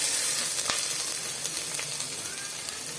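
Spices, ginger and garlic frying in hot oil for crab rasam give a steady, bright sizzle with a few crackling pops, close and continuous.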